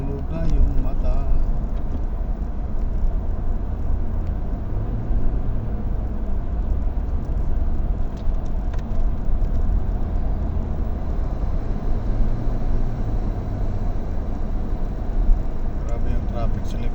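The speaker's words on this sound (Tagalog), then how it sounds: "Traffic sa left side." Steady road traffic on a busy, bumper-to-bumper street, a loud continuous engine and tyre rumble that holds throughout, heard close with no clear individual passes.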